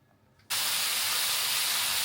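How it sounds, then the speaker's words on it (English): Bacon sizzling loudly in a hot pan, a steady, bright crackling hiss that bursts in suddenly after a brief quiet moment and holds constant. "The sizzle of the bacon."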